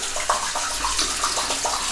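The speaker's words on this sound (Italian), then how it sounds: "Quindi risciacquiamo il rasoio." Running tap water splashes as a safety razor is rinsed during a wet shave at a bathroom sink. The rush of water is close and steady, with small bursts and splashes as the blade passes through the stream.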